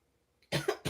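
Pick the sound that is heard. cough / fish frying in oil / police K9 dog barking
cough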